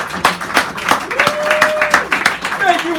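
Audience applause at a poetry hour at Sacred Grounds Cafe in San Francisco, a short burst of scattered hand claps with a voice speaking over it and a cheer, close and lively.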